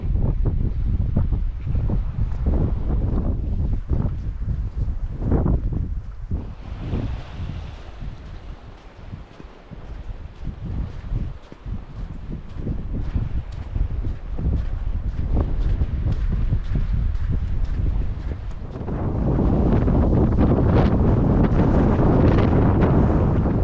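Strong afternoon wind at Brora on the Scottish coast buffets the microphone in loud, rumbling gusts that rise and fall, growing heavier toward the end.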